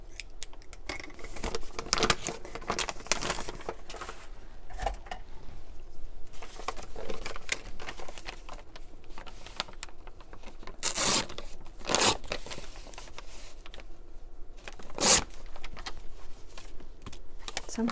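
Paper being cut with scissors for a traveler's notebook journal page, a soft run of close snips and rustles with a few sharper cuts, no talk.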